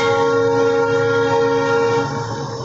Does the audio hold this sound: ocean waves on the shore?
no